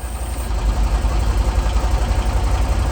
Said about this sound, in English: As the compressor's running,